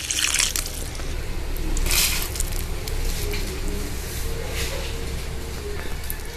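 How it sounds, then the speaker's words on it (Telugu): Water poured into a curd batter for Mysore bonda makes soft splashing and squishing noises, with a few brighter bursts of liquid sound over a low, steady background. "కాస్తని వాటర్ పోసుకోవాలి."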